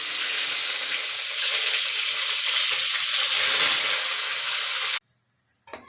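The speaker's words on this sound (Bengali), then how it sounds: "ফুলকপিগুলো ভেজে নিলাম" Cauliflower fries in hot oil in a wok with a loud, steady, close hiss and sizzle for about five seconds, then cuts off abruptly to near quiet with one soft knock, and no speech.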